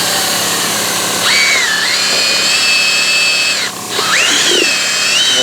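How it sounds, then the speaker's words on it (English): A power drill fitted with a mixer paddle churns plaster in a bucket, whining loudly and steadily with two rising speed changes and a brief pause between them, heard up close with no talk. "we're gonna take a mixer and a drill"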